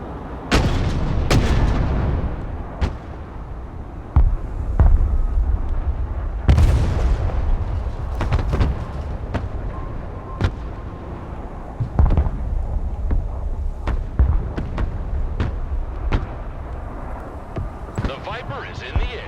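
Artillery booms repeatedly in the Broken Arrow war game, heavy close blasts and rumbling impacts arriving in irregular bursts across the whole stretch, with in-game radio voices heard between shots.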